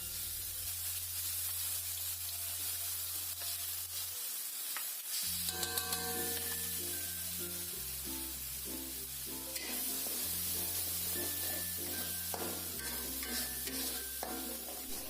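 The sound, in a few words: sautéing ground spice paste in a pan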